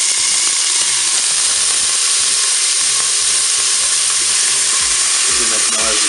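Onions sizzling in hot oil inside a Cookeo multicooker, a loud, steady frying hiss with crackling pops that holds evenly throughout.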